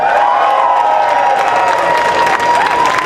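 A large rally crowd in Mississauga Malton cheers loudly and continuously for Gary, a dense wash of shouts, whistles and clapping close and unbroken.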